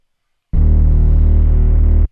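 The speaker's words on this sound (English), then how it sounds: "Let's go to the triangle wave. The triangle wave is going to be closer to the sine wave." An MXR Bass Synth pedal set to its triangle wave plays one sustained bass note, loud and steady for about a second and a half, with a rich buzzy overtone stack and no other sounds.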